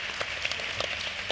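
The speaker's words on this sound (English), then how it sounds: "And now let's give them all a round of applause." An audience at an education panel event claps for the speakers in a short, soft burst of dense, even applause heard from a distance.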